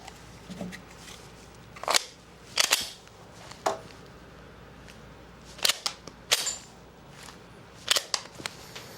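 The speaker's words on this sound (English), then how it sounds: "Let's do a quick test on it, see how it feeds. Of course, we're going to use snap caps." Snap caps cycling through a POF Glock 17 Gen 3 pistol slide: a series of sharp, close mechanical clacks and snaps in irregular pairs and singles, with quiet pauses between actions and no talking.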